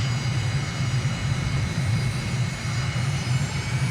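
Aircraft engine in Microsoft Flight Simulator spooling up for takeoff on runway 32 at Belp Airport near Bern, a steady loud low drone with a whining high tone on top, continuous with no talk.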